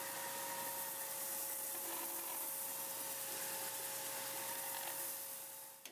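A continuous power-sander whine sanding down a wooden bandsaw box drawer, with a steady tonal hum and broad grinding hiss, close and loud, running unbroken without speech.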